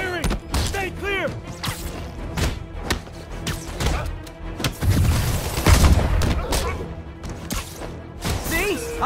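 Gunfire and booming impacts erupt during a Spider-Man PS4 action sequence. Repeated shots and thuds mix with game voices and sound effects at close, loud levels.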